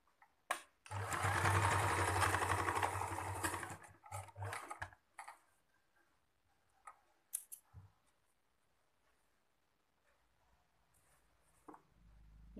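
A sewing machine stitches cloth for a baby napkin in one loud continuous run of about three seconds, followed by a few short bursts of stitching and then scattered soft handling clicks and taps.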